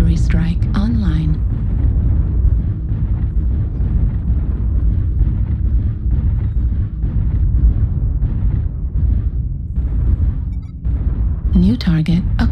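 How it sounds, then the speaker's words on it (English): Heavy artillery strike explosions rumble in the MechWarrior Online video game, a dense, loud, low booming barrage throughout with brief game voice callouts at the start and end. "Artillery strike online."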